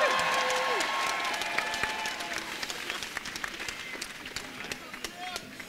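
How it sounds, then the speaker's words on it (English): A large outdoor crowd at a student climate strike in Iowa City applauds, loud sustained clapping with some cheers that gradually thins toward scattered claps, with voices audible underneath. "So I would like to give City Council, our city manager, and Mayor Throgmorton a hand"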